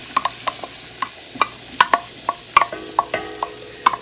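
Onions being stirred in a pan for pasta sauce, with a low sizzle under a steady series of sharp scrapes and taps from the spoon against the pan, close up, no voices.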